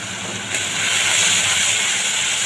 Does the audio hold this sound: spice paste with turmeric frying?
yes